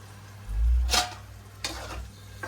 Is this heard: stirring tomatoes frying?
yes